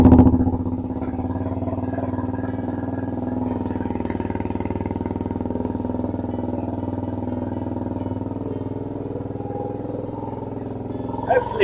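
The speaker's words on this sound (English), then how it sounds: "it does have a bit of an obnoxious short can Black Widow exhaust on" Kawasaki Ninja 125 motorcycle engine idling steadily with a loud Black Widow short-can exhaust, a constant close low drone throughout with a brief rise at the end, while someone talks over it.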